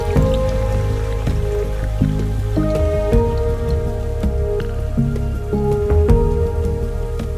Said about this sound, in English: It's just raining down.